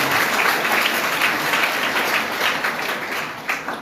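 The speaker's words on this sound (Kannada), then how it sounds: "ಚಪ್ಪಾಳೆ ತಟ್ಟಿ." Audience applause fills a lecture hall, dense continuous clapping from many hands, loud and sustained for several seconds with no speech over it.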